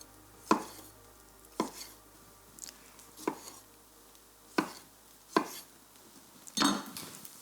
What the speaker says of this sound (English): sort of roughly roll chop them